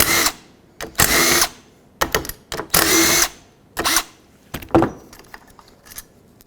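A power tool runs on the 8mm bolts of a 1997-2003 Ford F-150 wiper transmission, giving loud, close whirring bursts of about a second each, separated by short pauses and a few brief clicks.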